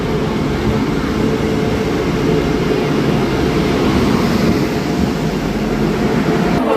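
A steady, loud rumbling roar of a train entering a station platform fills the air continuously, a broad rolling noise with no pauses or voices.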